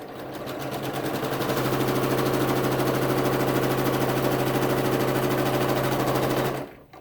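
Sewing machine stitching a mitered corner on a quilt, a steady fast mechanical whirring and rapid needle clatter running continuously up close, then stopping abruptly at the end.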